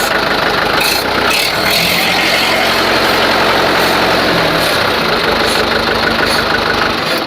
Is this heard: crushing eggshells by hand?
no